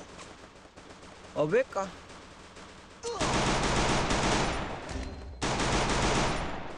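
Sustained automatic gunfire in the video game Free Fire played on PC, two long loud bursts in the second half after a short excited spoken exclamation.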